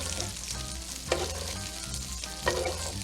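Monte Cristo sandwiches with Gouda fry in hot butter in a pan, a continuous close sizzle with two brief scraping clatters from a spatula.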